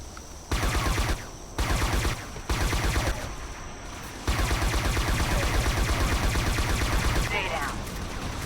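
Bursts of rapid automatic gunfire in Scourge Outbreak come in several loud volleys, then a long sustained stream of fire, with talk mixed in.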